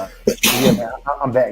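A man sneezes once during a podcast conversation, a short sharp burst of breath close to the microphone, with his own speech just before and after it.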